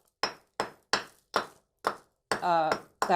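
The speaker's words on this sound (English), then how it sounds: "just take the edges and hit them lightly with the hammer" Five sharp, evenly spaced hammer taps on brick paver edges, each ringing briefly, followed by a short burst of a person talking and another tap at the end.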